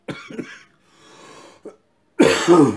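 A person with a cold or flu coughs a couple of times, then gives a longer, louder burst of harsh coughing with a short raspy breath between, close to the microphone.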